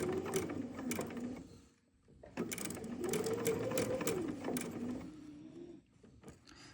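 A sewing machine stitches curved quilt pieces together, its motor humming steadily at close range with a short pause in the middle, plus small mechanical clicks and no speech.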